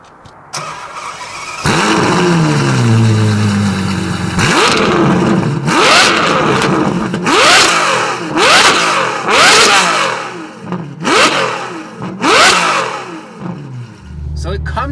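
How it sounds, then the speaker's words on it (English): A Ferrari F12 with a straight-piped exhaust is revved hard, loud and close. After a startup flare, sharp throttle blips rise and fall again and again, each one rasping up and dropping back to idle. "nothing comes close to the straight piped exhaust from Frequency Intelligent that we installed on the car about 2 weeks ago"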